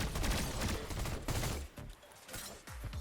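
A rifle fires in Fortnite, loud close shots in quick irregular bursts with booming low thumps and brief gaps between volleys.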